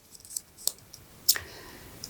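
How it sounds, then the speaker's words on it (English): Scissors snip through folded craft paper, cutting out monster teeth in a few sharp, separate clicks and crunches, close and clear, with quiet gaps between the cuts. "I'm going to just do some folding so that I can cut out several teeth at once"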